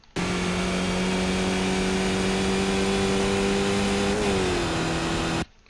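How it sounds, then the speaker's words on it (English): A Skip Barber race car engine in iRacing at Daytona, a steady loud high drone holding as it pulls up through the gears into fifth, then a brief pitch dip at the shift before settling again. "working up into fifth gear."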